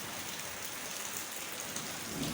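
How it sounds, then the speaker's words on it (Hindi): Heavy rain pours down steadily during a rainy-day gathering, a dense, even hiss of drops close by with no voices over it. "और बारिश तेज होने लगी है दोस्तों, देखो कितनी तेज बारिश हो रही है।"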